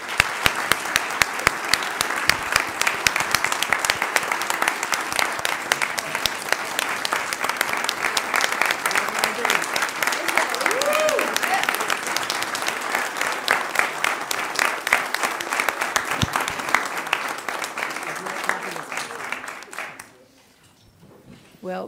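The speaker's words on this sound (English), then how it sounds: "Let's give them another round of applause." Sustained round of audience applause for nominated teachers at a school district recognition meeting, steady dense clapping from many people that fades out near the end.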